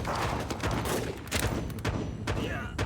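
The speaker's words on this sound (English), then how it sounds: "That's a big old heavy machine gun on there. 50 cal." A heavy .50 cal machine gun firing in the video game Warpips, with dense overlapping bursts of booming shots amid battle noise, loud and continuous.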